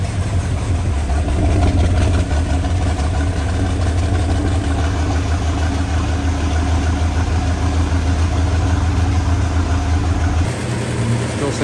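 A 1972 Ford Falcon engine, revived after sitting off the road for 16 years, idles steadily with a low, even rumble, close and loud throughout, dipping slightly near the end.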